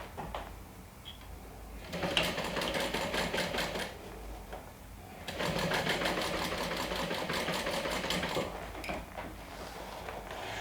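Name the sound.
sewing machine doing a straight stitch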